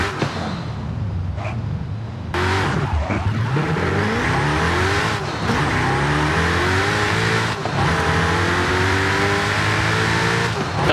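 Car engine with factory tuning in Forza Horizon 5, an American vehicle with long gears, revving loudly and continuously through several sweeping rises and falls, with brief tire squeal and skidding alongside.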